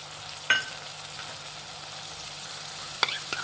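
Chilli chicken cooks over a medium flame in a pan with soy sauce and vinegar, giving a soft steady sizzle with two sharp clinks of a spoon against the pan, and no voices.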